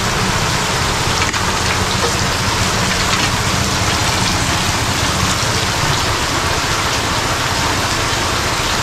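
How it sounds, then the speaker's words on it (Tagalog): Rain falls steadily outdoors in the Philippines, a dense constant hiss of drops on surfaces, loud and unbroken with no voices heard. "Ulan."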